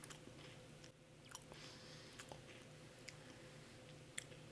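Someone chews crunchy, salty rice crackers close to the microphone, with a soft, steady chewing rhythm broken by occasional sharper crunches over a low electrical hum.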